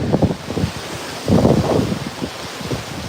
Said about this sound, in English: Lots of strong wind.